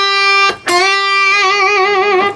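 A distorted electric guitar plays a riff: a sustained note, a quick re-pick and bend, then a held bent note with wide, even vibrato, loud and alone.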